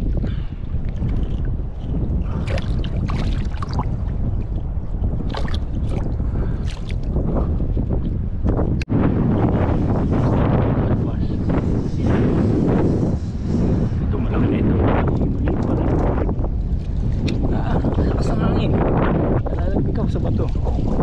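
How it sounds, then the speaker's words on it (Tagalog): Strong wind roars and buffets the microphone continuously, with a strong current of rushing water beneath and occasional voices breaking through. "Lakas na ng hangin, lakas pa ng agos."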